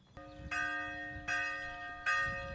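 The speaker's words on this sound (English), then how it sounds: "It was 6 o'clock as the bells from the Catholic church at the top of the hill informed us" Bells of a Catholic church at the top of a hill on Santorini ring at six o'clock. Three resonant strikes, about a second apart, each ringing on with long sustained tones.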